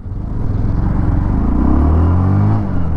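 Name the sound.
Bajaj Platina 110 motorcycle engine accelerating in first gear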